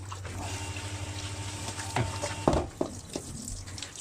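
Running water splashes and sloshes against a wok being rinsed with plain water, with a few scraping clatters over a steady low hum.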